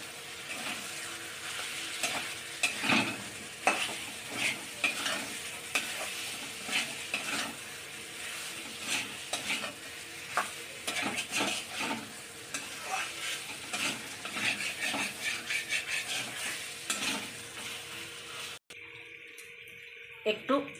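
Pointed gourd and potato pieces fry in spice paste in a pan, a steady sizzle broken by repeated scraping and clattering stirs, close and moderately loud, with a voice talking over parts and a sudden cut to near-quiet near the end.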